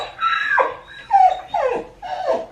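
A dog close by makes a run of four short, whiny grunting vocalizations, each sliding downward in pitch, with brief pauses between them and no talking.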